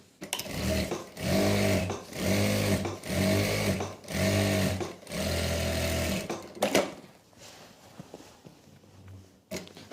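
A sewing machine stitches a salwar seam in five steady bursts of rapid, even running, each lasting around a second with short pauses between, followed by a few faint handling knocks as the fabric is adjusted.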